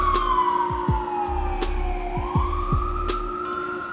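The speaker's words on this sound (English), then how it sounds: "Police ambulance going on" A police or ambulance siren passes on a city street, a loud wailing tone that dips and climbs again. Rhythmic low thumps sound underneath throughout the few seconds.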